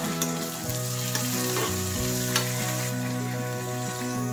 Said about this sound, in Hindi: अब हम इसमें डाल देंगे ये हमारे टमाटर और इसमें हरी मिर्चियां, डाल के अच्छे से चला लेंगे।